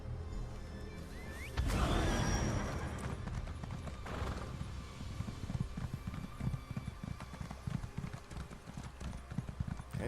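Horse hooves clip-clop at a steady walking rhythm as a mount trots along in The Elder Scrolls Online, close and clear over faint game ambience, with a brief whinny-like burst early on.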